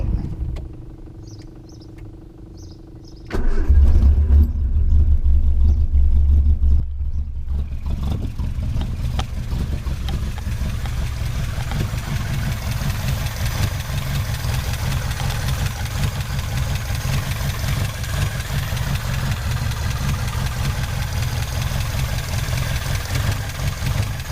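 A 1979 Ford Escort Mk2 engine fires up after a brief quiet moment, revs loudly for a few seconds, then drops to a steady, rough idle that carries on close and unbroken.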